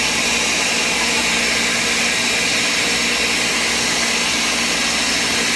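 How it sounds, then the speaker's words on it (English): A Ninja blender whirs at high speed while making homemade coconut milk, a loud, steady, roaring whine that holds without a break from start to finish, with no voices over it. "It is a ninja blender."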